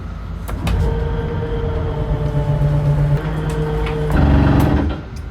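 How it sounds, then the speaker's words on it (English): Slide-out on a 2022 Jayco Jay Flight SLX8 284BHS travel trailer retracting: a steady electric motor whine with gear hum runs throughout, rising louder and rougher near the end as it reaches the stop. "Here's the slide moving in."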